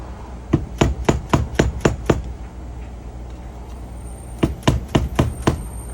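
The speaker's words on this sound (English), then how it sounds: "flatten out the lock tabs on the lock washer here. I like to just use a flathead" Sharp metallic hammer strikes on a flathead screwdriver, flattening lock washer tabs during a Honda CR250 bottom end rebuild: a quick run of seven evenly spaced blows, a short pause, then five more, close and crisp.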